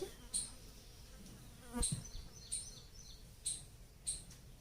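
A housefly buzzes close by in a home kitchen in short, faint, intermittent bursts against low background noise.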